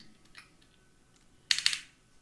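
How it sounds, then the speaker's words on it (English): Keys on a computer keyboard are tapped while a username is entered, a few faint scattered clicks followed by a sharper cluster of quick keystrokes, close and alone without talk. "I'm just typing the username of our YouTube channel."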